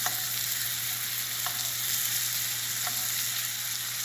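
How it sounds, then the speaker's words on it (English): Fish sizzles steadily in a hot pan while being basted for fish tacos, a continuous frying hiss with a few faint clinks of the spoon at intervals, close and fairly quiet, with no talking. "we want to continuously baste this fish while we cook it the rest of the time here"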